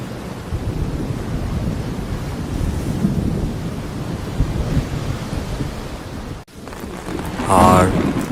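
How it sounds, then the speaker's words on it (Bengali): Heavy rain and thunder in a Bengali horror cartoon: a dense, continuous roar of downpour with low rumbling throughout, cut by a brief dropout near the end, after which a voice-like sound rises over the rain. "বৃষ্টি নামে ধমধম করে, বিদ্যুৎ চমকে ওঠে চারদিক, কেঁপে ওঠে পুরো গ্রাম"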